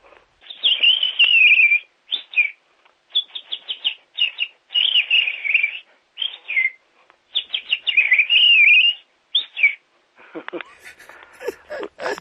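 A human voice imitates a chaffinch song, whistling bright, bird-like phrases in quick bursts and trills, with short gaps between them and a few scratchy noises at the end.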